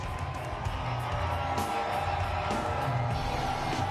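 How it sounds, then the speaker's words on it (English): A wrestling arena crowd at TNA Slammiversary cheers and whoops for newly crowned NWA World Heavyweight Champion AJ Styles, a loud, sustained roar that fills the hall. "Listen to that crowd appreciation and how greatly deserved it is."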